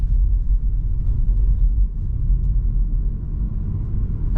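A 2026 BYD Atto 2 DM-i plug-in hybrid on 17-inch wheels rolls over a bumpy road section, heard from inside as a steady low cabin rumble with faint thumps and no talking.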